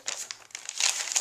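Noisy paper, such as ledger or graph paper, is handled up close, giving bursts of crisp crinkling and rustling that build louder toward the end, with no talk.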